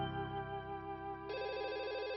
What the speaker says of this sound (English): The phone rang early that morning.